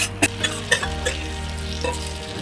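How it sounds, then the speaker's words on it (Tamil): Beaten egg omelette batter for a spicy bread omelette sizzles on a hot oiled tawa with a steady crackling fry, close and loud, with a few sharper pops and no voices. "மிக்ஸ் பண்ணி வச்சுருக்கிற அந்த முட்டையை தோசை ஊற்றுற அந்த சைஸில் நம்ம ஊற்றிட்டு"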